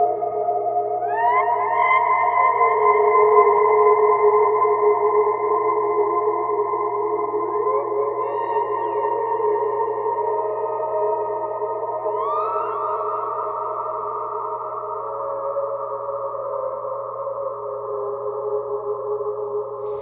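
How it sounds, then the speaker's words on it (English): Ambient electric guitar notes run through a Strymon El Capistan with heavy reverb and delay. Sustained washes hold steadily while high pitch swells glide upward every few seconds and then trail off, continuing for about twenty seconds with no talking. "play with your Strymon El Capistan pitch up and down and add a lot of reverb and a lot of delays"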